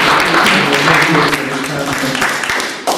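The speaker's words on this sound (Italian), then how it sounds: "facciamo un applauso intanto" An audience applauds at an event, steady dense clapping throughout with voices mixed in.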